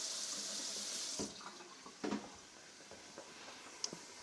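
Tap water runs steadily into a cup, a close hissing stream that cuts off partway, followed by a few small clinks and drips.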